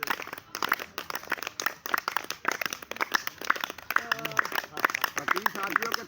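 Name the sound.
clapping by lawyers in audience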